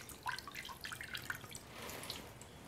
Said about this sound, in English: I'm going to pull the nettles out of the water, leaving any dirt behind.